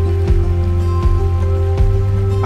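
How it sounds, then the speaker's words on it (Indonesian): The Cisentor river on Mount Argopuro babbles loudly and steadily at close range, a continuous watery rush with a few soft thumps and a faint steady hum beneath. "Gemercik sungai Cisentor terdengar sangat nyaring memecah kesunyian pagi itu."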